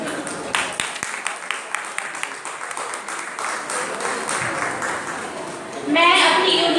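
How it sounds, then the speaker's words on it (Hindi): Applause from an audience at a nurses' union celebration of Babasaheb Ambedkar's birthday, a scattering of claps with a few sharper individual hits, then the applause swells louder near the end. "उनके तालियों से स्वागत करें"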